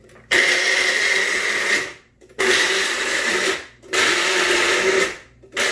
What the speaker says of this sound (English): It's in the blender. Let's give it a blend.